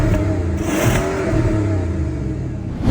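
A Bentley Flying Spur Speed luxury sedan with a 6-liter twin-turbo W12 revs hard, a loud, close, deep engine roar rising and holding steady with no voices.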